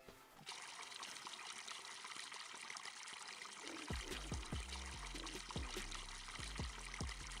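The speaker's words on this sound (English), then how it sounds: "We just bring out a hose." A garden hose waters a garden in Farming Simulator 25, giving a steady, close spray hiss throughout, with rhythmic pulsing game sounds joining partway through.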